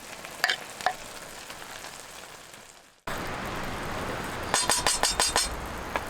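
Lettuce wrap filling with green onion sizzles and fries in a camp pan, a steady loud crackle broken by a burst of quick metallic scraping and clinking as the mixture is stirred.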